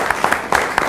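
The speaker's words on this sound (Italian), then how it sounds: "Parte l'applauso" A studio audience on an Italian television program breaks into applause, short close bursts of clapping and crowd noise in a brief moment.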